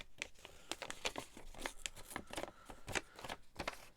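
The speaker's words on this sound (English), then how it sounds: "I might as well carry on ripping the envelope up" A paper envelope being ripped apart by hand, a close, quiet series of irregular tearing and crinkling bursts with brief gaps, no talking.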